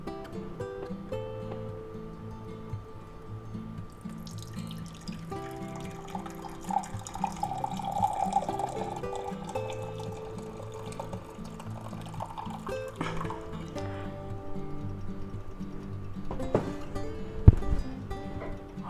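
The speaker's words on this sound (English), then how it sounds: "And let's pour this in there, our Au Jus." Au jus poured into a Pyrex pitcher, a steady trickling and filling of liquid with drips, set against a sustained tonal background and ending with a sharp knock near the close.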